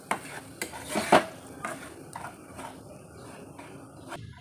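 Semolina being fried in oil in a pan for a quick snack recipe, with a spoon scraping and clinking against the metal pan in a few sharp strokes and then softer stirring, close and without speech.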